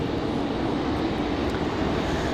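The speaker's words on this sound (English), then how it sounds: "That last departure, American Airlines 557 off to Chicago." An American Airlines jet departing Raleigh-Durham International Airport, a loud, steady low jet engine roar filling the whole stretch with no talk.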